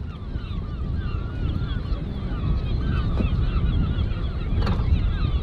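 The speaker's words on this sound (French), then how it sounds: "Il n'y a pas un bruit, si ce n'est le bruit des oiseaux qu'on entend." Many seabirds call and honk over one another in a continuous noisy chorus at a large nesting site on the Iroise Sea coast, mixed with steady low wind rumble.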